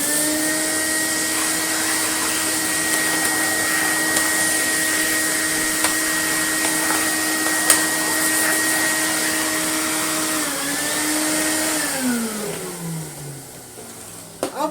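A cordless gTech Air Ram Mk2 vacuum cleaner runs with a loud, steady motor whine, then winds down in a falling pitch as it switches off; there is no talking.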